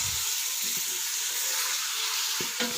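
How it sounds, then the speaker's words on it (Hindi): About a kilo of chicken frying in a pot for shorba: a soft, continuous hiss and sizzle, fairly quiet, with a few faint stirring scrapes and a brief clatter near the end, no voices. "भूनूँगी।"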